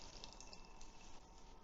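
Water trickling and dripping as grated potatoes are squeezed by hand for rösti, a steady, soft, close wet sound with no talk.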